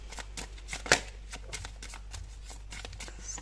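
Oracle cards are shuffled by hand during a card reading: soft, quick riffling flutters close by, with one sharper slap near the start and a faint background hum.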